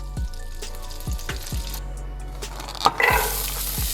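Carrots and celery sauté in a pot with minced garlic for turkey noodle soup, giving a steady sizzle broken by several stirring scrapes and clanks and a louder splash of vegetables near the end.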